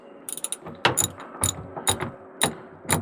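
A ratchet clicks in short bursts while loosening half-inch nuts that hold a classic car's taillight assembly, the sharp metallic ratcheting repeating several times up close.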